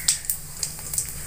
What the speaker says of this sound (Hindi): तो जीरा हमारा चटकने लगा है